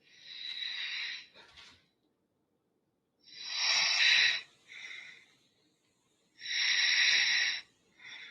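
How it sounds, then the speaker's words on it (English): Heavy breathing or snoring played back from a phone recording made around midnight, with three long, loud rasping breath bursts separated by quiet gaps, hissy and wheezy in tone, with no talking. "It's like heavy breathing."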